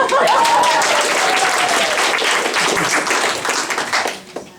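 A louder round of applause from an audience at a birthday speech, vigorous crowded clapping at full strength from the start that holds steady before tapering off near the end, with a faint voice briefly audible.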